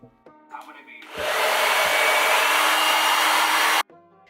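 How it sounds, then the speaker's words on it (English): A hair dryer fitted with a concentrator nozzle blows with a loud, steady rush of air for a few seconds, then cuts off abruptly, with brief handling noises around it. "Using a round brush and the concentrator nozzle on my hairdryer"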